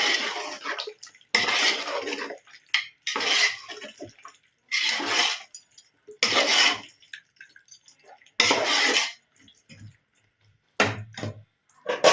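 Bursts of scraping and clinking from a utensil stirring chicken biryani in a pot, in short irregular strokes with pauses between, fairly close.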